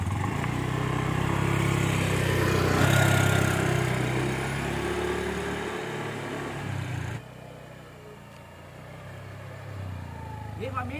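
A motorcycle engine runs steadily close by, a continuous mid-pitched drone that dips slightly partway through, heard outdoors with people talking over it.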